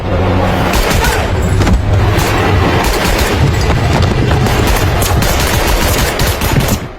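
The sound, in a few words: gunshots in a film scene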